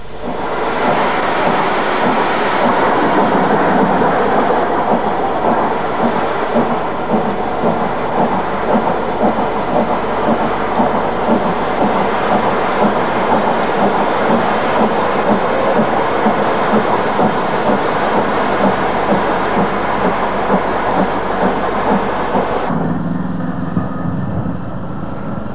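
British steam locomotive 72008 Clan MacLeod labours steadily past hauling a special train near Camp Hill, with a loud, continuous rumble and rhythmic chuffing, train noise filling the whole stretch before cutting off abruptly.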